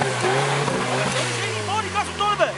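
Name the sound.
car engine revving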